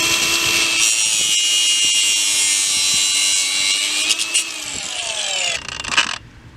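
Rubber being cut away from a Porsche Cayenne / VW Touareg driveshaft carrier during an install: a steady, close, high-pitched sawing drone runs continuously for about six seconds, turning rougher and scrapier before stopping abruptly.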